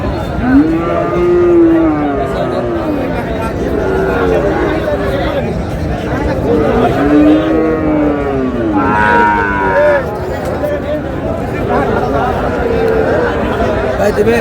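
Several Sahiwal bull calves moo repeatedly at close range at a cattle market amid a busy crowd of chattering voices, with long, drawn-out calls rising over the market hubbub.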